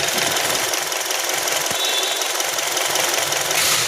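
A Honda 2.4 engine with a misfire runs continuously up close, a loud, rough, rattling hiss with uneven pulsing and no talk, cutting off abruptly at the end.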